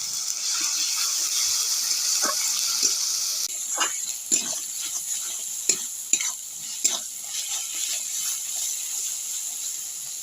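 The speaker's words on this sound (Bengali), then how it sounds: "আদা রসুন বাটাটা ভাজা হয়ে গেছে" Ginger-garlic paste fries in a pan of hot oil for a Bengali chicken kosha, a steady sizzle broken by repeated scraping stirs and sharp clicks of a spatula against the pan.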